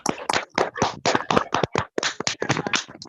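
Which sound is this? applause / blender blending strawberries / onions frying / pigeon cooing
applause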